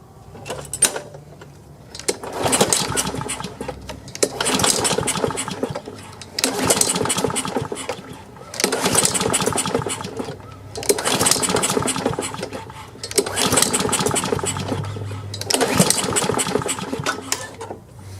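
A Craftsman lawn mower engine is cranked over with the choke on and fails to start, making about seven loud, close bursts of mechanical whirring, each a second or two long, with short pauses between them.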